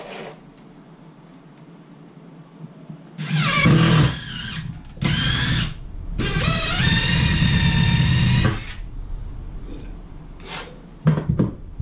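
A power drill drives screws during a garage-to-workshop conversion, running in several loud, near bursts of whirring motor, with the longest run lasting a few seconds, separated by pauses and light clicks.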